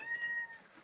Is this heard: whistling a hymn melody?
no